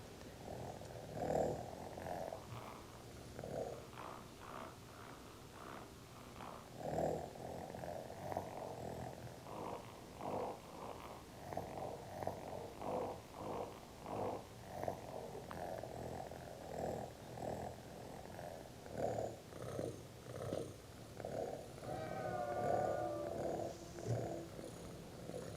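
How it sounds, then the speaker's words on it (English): A cat purrs close up in a long, steady rhythmic rumble that rises and falls with each breath, continuous for the whole stretch with no talking. "She recorded her cat purring, and she recorded her cat meowing."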